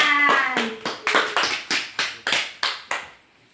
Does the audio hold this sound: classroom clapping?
yes